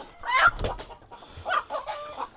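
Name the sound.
rooster squawking and flapping when held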